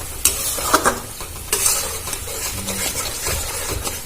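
Spices and green chillies stir-fried in a pan for a Bengali doi potol curry, with a steady sizzle broken by scraping spatula strokes and a few louder clatters near the pan.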